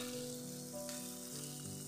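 Cooked fried chicken pieces sizzle faintly in a hot pan with oil as they are stirred around, a soft continuous frying crackle with small shifts as the pieces are moved.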